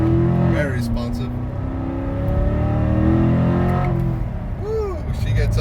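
Corvette C7 Z51 engine pulling hard under acceleration, a steady rising drone with shifting harmonics heard from inside the cabin, loud and continuous with a brief pitch change as it climbs.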